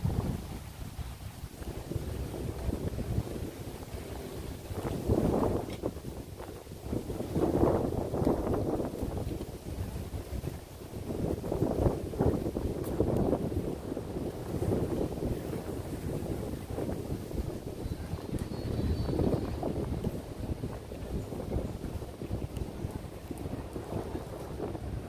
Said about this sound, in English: Getting windier.